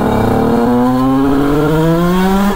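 A 100 2Fast scooter two-stroke engine fitted with its stock airbox revs loud and close, a steady high buzzing note climbing in pitch like a sport motorcycle, with no talk over it.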